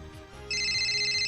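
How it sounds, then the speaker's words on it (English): A phone in the Steins;Gate video game starts ringing partway through with a bright, steady electronic ringtone, loud and close, following a moment of quieter background music. "Oh, the phone is ringing."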